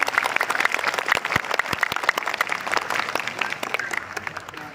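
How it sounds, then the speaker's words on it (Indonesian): Children applaud visiting guests after a Monday flag ceremony at a school with police officers present, a busy patter of many small hands clapping, moderately loud and gradually thinning toward the end. "coba anak-anak berikan tepuk tangan dong buat tamu kita hari ini"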